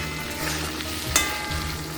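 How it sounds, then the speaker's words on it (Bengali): Paneer cubes frying in a pan of hot oil in a home kitchen, a steady close sizzle with one sharp stirring clatter about midway, no voices. "অর্ধেক পনির ভাজা হচ্ছে"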